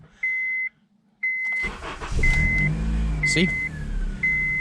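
A Honda Civic that had sat unused for six months, with a freed-up seized alternator, cold-starts first try on the key after a few warning chimes; the engine catches and settles into a loud, close idle, with a brief word spoken.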